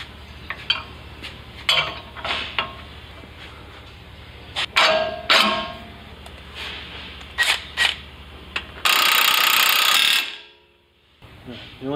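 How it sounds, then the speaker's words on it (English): Metallic clanks, clicks and ratcheting from installing a bottom bolt on the axle of a 2021 Ford Bronco during a lift kit job, arriving as scattered close knocks, then a loud burst of sustained noise before a brief hush. "we can go ahead and install our bottom bolt on the axle"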